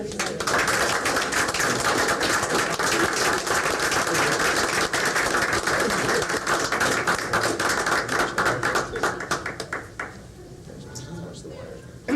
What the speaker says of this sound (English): That's another round of applause.